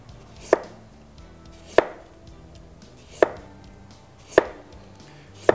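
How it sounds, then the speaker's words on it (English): A kitchen knife slices a carrot on a cutting board in five evenly spaced, crisp chops about a second apart, each a sharp close knock against a quiet background. "you can take nice beautiful slices of the carrot"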